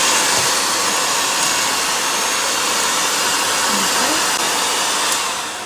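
An electric mixer turns on low speed, beating full fat soft cheese in a mixing bowl for cheesecake, with a loud, steady close whir that tapers off at the end.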